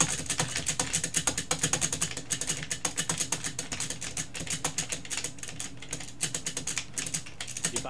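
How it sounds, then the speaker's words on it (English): Rapid, continuous typing on a computer keyboard during a multiplayer session of the game DoomZ, with dense clattering keystrokes in an irregular rhythm, close and fairly quiet, with no talk over it. "You're bashing a lot of keys out."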